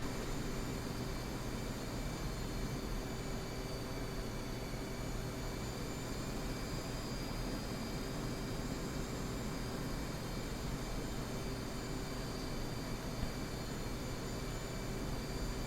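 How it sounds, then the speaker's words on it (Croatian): An F/A-18C jet engine in the DCS World flight simulator hums as a steady, broadband roar with a faint constant tone throughout, heard alone while engine power is reduced on a landing approach. "evo sad ćemo malo smanjiti snagu motora da počnemo gubiti na visini"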